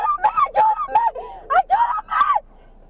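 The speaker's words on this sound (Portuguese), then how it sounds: "Apavorada, a entregadora grita por ajuda" A woman in Florida screams and cries out for help right after being attacked by a dog while delivering food, a string of loud, wavering, panicked vocal bursts that stop abruptly near the end.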